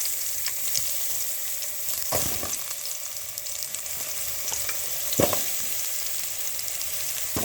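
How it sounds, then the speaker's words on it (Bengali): Potatoes frying in hot oil in a wok, a loud continuous crackling sizzle with occasional scraping stirs of a spatula, close up and without talk. "আলু আর কলা দিয়ে দেবো, একসঙ্গে ভেজে নেব।"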